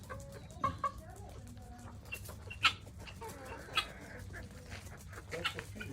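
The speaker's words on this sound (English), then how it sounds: "The silk chickens." Silkie chickens on a farm giving soft scattered clucks and short squawks, a few sharper calls standing out now and then over a low background, close but not loud.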